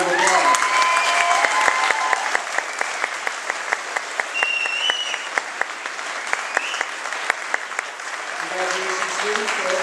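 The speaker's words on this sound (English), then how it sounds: "Let's give them a round of applause." An audience at an elementary school awards ceremony claps for Gold Award winners, sustained dense applause from a crowd filling the room, fading slightly toward the end with a few voices underneath.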